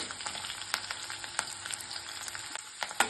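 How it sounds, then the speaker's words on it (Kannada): Dried red chili, curry leaves and cashews frying in oil for bisibelebath, a soft, even sizzle with light crackles and a few faint clinks of a spoon in the pan. "ಫ್ರೈ ಮಾಡ್ಕೊಳ್ಳೋಣ"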